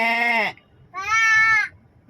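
A voice gives two drawn-out bleating calls, imitating a goat, separated by a short pause.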